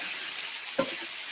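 Salmon dinner ingredients stirred in a sizzling pan, a quiet steady fry with one soft scrape of the spoon, brief and close.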